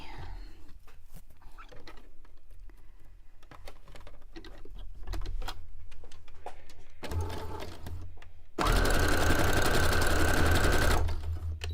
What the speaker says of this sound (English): I'm just going to close that up real quick using my sewing machine